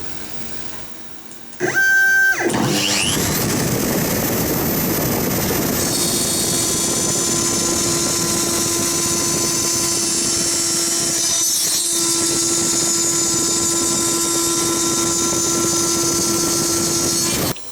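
An X-Carve CNC mill cuts glass fiber reinforced plastic at a feed rate of 800 in 0.5 mm depth passes: the spindle spins up to a loud, steady high whine with grinding cutting noise held throughout, no talk.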